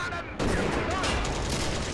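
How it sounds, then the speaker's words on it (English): A tank cannon firing in Steel Fury: Kharkov 1942, a single heavy boom at the start followed by sustained loud rumbling battle noise that fills the rest of the moment. "I will put one more shot into it just to be absolutely certain"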